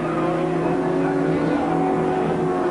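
A BMW M3 touring car, number 48, from the 1987 RAC Tourist Trophy at Silverstone, drives into the pit lane with a steady, loud engine drone. The tone holds throughout with no clear revving, and there is no speech.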